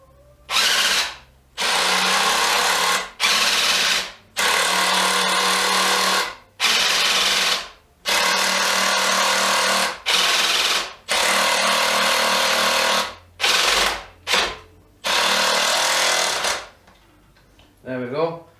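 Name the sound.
AEG BSS18 hydraulic impact driver driving screws into hardwood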